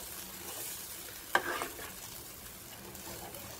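Peanut amti gets stirred in a pot over a low gas flame, a soft, quiet simmering hiss broken by one brief scrape of the spoon near the middle.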